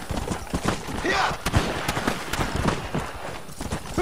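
Gunfire in the Red Dead Redemption video game on PS3, scattered sharp shots crackling through a busy mix while a player rides a horse, with speech mixed in.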